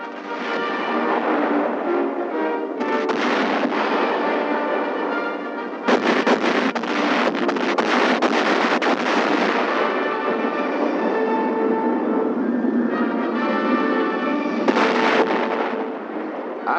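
Wartime naval and air bombardment of Okinawa in the Pacific War: dense artillery fire and explosions thunder on continuously, loud and layered, with sharp bursts throughout, mixed with a musical score.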